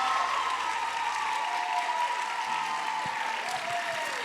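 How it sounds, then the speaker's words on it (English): A crowd at the 2021 Hudson Ambassador coronation applauds the candidates in a steady, fairly faint and distant wash of clapping with a little cheering. "Let's all give these wonderful candidates a round of applause."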